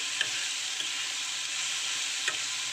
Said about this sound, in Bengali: তাই এটিকে ভালোভাবে অনবরত নাড়াচাড়া করতে থাকবো।